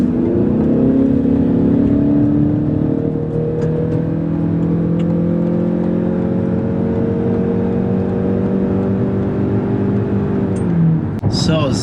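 A 2020 Ford Escape accelerating hard from 0 to 60 mph in sport mode, the engine note climbing steadily through the gears with a loud, continuous drone from inside the cabin before easing off near the end.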